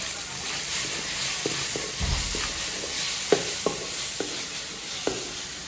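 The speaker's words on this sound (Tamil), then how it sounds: "சேர்த்து நல்லா வதக்கிக்கோங்க." Onion, green chilies and chili powder sautéing in a pan for a fish curry, a steady close sizzle broken by several light scraping and tapping strokes of a spatula, with one low thump partway through.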